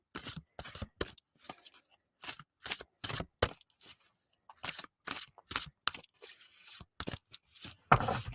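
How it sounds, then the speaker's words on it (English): A deck of cards is given a quick shuffle, heard as a series of short, crisp riffling and snapping bursts separated by brief pauses, close and fairly quiet with no talking. "So just doing a quick little shuffle here."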